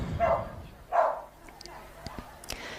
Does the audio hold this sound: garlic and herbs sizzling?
no